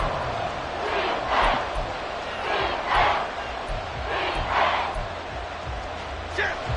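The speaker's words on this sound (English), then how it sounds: "The crowd getting into it as we come up on a big third down." A stadium crowd in an American football video game roars in repeated swelling surges ahead of a big third down in the fourth quarter, heard moderately under a commentator's voice.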